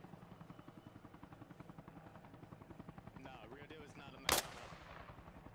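A helicopter in the Arma Reforger combat game drones with a steady rhythmic rotor thump, then a single sharp, loud gunshot cracks near the end.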